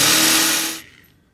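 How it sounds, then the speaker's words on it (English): A loud, close drill grinds at high speed boring through a rounded metal rail on a garage, then spins down and stops within about a second. "This rounded portion of the rail is going to be difficult to get a drill bit into"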